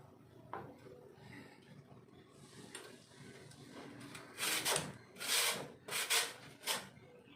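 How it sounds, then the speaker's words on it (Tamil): Peeled potatoes are grated on the large holes of a carrot grater, giving a series of close, rasping scrapes that grow louder and come in quick rhythmic strokes toward the end. "இப்போ நம்ம இந்த மாதிரி கேரட் திருவெல்லாம் எடுத்துக்கோங்க. இந்த மாதிரி பெரிய ஓட்டை இருக்கும்ல, இதில் நம்ம ஸ்லைஸ் மாதிரி போட்டுக்கலாம்."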